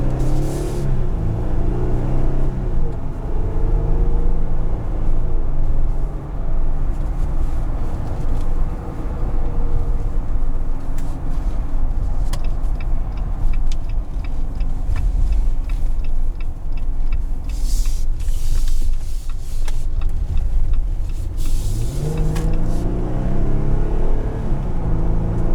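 A 2021 Jeep Wrangler Rubicon automatic heard from inside while driving, with a loud, steady road and engine rumble, rattling cabin clicks and a few rising revs.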